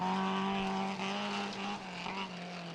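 The Green Ash Corolla, a small rally car, runs flat out along a straight on a sprint stage, its engine note holding high and steady with slight pitch shifts.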